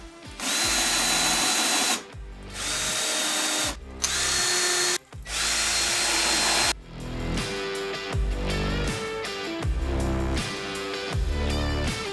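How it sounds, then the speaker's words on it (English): A power drill driving screws into wood veneer panels during an office installation, loud close bursts of whirring motor in several separate runs, some long and steady, others shorter and choppy as each screw seats. "Now I just need to drill it in, and we're golden."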